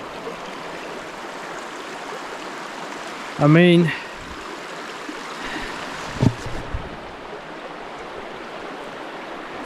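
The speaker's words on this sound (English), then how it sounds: "I hear a water stream, and this one sounds and looks a lot bigger." A fairly large stream rushing through the Swedish countryside gives a steady, close, broadband flow of water, with someone briefly speaking over it and a few small knocks.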